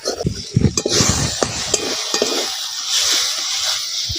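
Masala with ginger frying in a pan for a mushroom curry, a little water added, giving a loud hissing sizzle along with close scraping and stirring of the spoon throughout.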